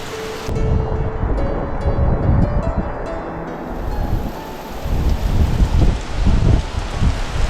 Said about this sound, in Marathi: खतरनाक पाऊस लागतो इथून